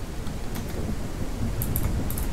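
Steady rain falls in the game Ranch Simulator, a soft continuous hiss with a low rumble beneath it.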